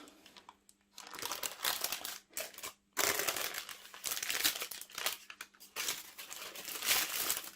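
Baking paper crinkling and crumpling as it is peeled off a cooled Easter cake, with close, loud rustling bursts and brief pauses, no talk.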